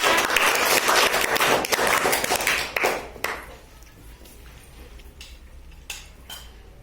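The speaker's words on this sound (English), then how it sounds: "Three claps for power." Children clap together in a rough burst of sharp, bright claps lasting a few seconds, then fade to a few scattered claps in a quieter room.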